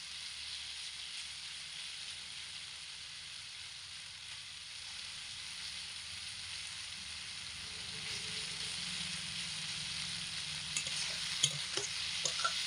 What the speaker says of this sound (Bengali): তো চিনি দিয়ে আমি কুমড়োটা এক মিনিট মতো নাড়াচাড়া করে